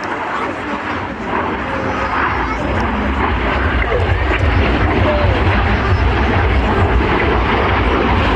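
Display aircraft from a synchro pair roar past low at an air show, a loud sustained engine rumble filling the scene while a commentator talks over it.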